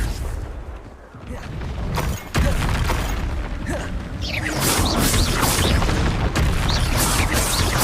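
A Confringo blasting spell goes off during Hogwarts Legacy combat, with loud booming bursts and crashes following one another amid the game's clattering action sounds.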